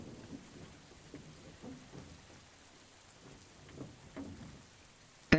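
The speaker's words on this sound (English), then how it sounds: "And so God sent a violent storm." Stormy downpour with rain pattering steadily and low thunder rumbles rolling in the distance, a sharper crack right at the end; no voices.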